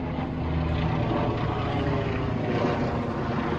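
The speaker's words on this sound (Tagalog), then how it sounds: "Helikopter oh." A helicopter passes overhead above a muddy outdoor area after heavy rain, its engine and rotors making a continuous, loud, steady droning hum throughout.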